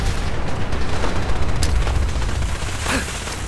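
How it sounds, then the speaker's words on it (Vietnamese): Heavy machine-gun fire rattles through a Fallout 4 battle at Bunker Hill, a dense, continuous roar of shots and booming blasts that stays loud and busy throughout, with no voices. "Bực mình cái đằng kia có thằng nó bắn gớm quá, nó có súng đại liên."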